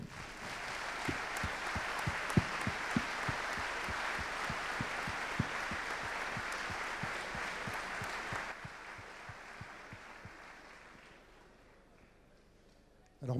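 Audience applause during a French military interview event, steady dense clapping with a few louder individual claps near the microphone, tapering off toward the end.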